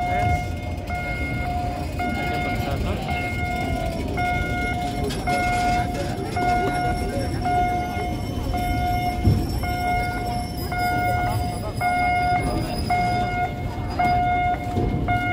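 Trains and rolling stock at the Manggarai railway workshop during an open house, giving a steady loud rumble with sustained horn-like tones throughout and people's voices mixed in the background.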